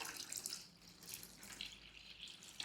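Water poured into a bowl while preparing Telugu-style curd vada (perugu vada) in a home kitchen, a faint, steady trickle with light splashing lasting a couple of seconds, no talking.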